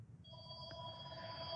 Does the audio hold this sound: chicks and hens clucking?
no